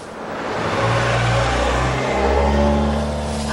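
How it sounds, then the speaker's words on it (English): A car engine hums and revs nearby in an animated scene, a steady mid-range drone rising and shifting in pitch as the car arrives, with no talking over it. "I think I hear Shackelford's car."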